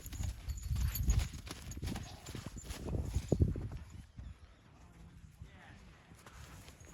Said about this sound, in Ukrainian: Коні бігають.